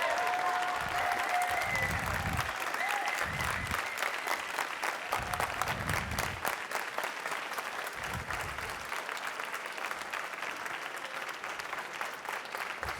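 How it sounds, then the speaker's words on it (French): An audience at a French barista championship gives sustained applause after a competitor's presentation, with dense clapping running the whole time and brief voices beneath it. "On l'applaudit"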